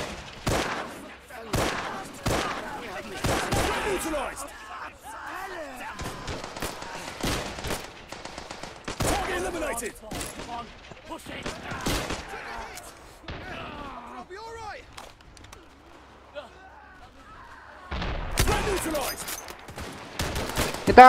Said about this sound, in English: They've got artillery!